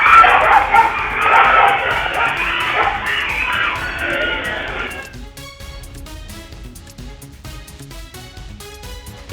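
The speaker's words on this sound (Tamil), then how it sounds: "சிறுமியை சுற்றி வளைத்து கடித்து தாக்கிய நாய்கள்" Several dogs bark and yip together in a close, agitated burst during an attack on a young girl, caught on CCTV, the noise loud at first and then thinning into scattered barks and whimpers with a background voice.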